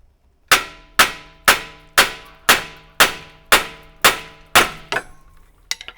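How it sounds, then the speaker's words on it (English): Pry bar and hammer work separating a ball joint from a BMW 3 Series control arm, a close, loud series of about nine evenly spaced metallic clangs, then a few weaker knocks at the end, with no talk. "So now we have our pry bar in between the control arm and the bottom of the strut."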